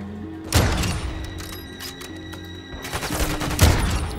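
Rapid bursts of Call of Duty gunfire, several volleys with loud shots near the start and end, over a steady low hum.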